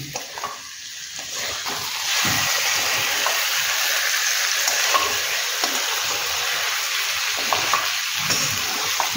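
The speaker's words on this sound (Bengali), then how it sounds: "কচুরমুখীটাকে একটু ভেজে নিয়ে তারপরে জল দেবো" Kachurmukhi taro frying in a pan, a steady close sizzle with occasional stirring scrapes and clinks, no talking.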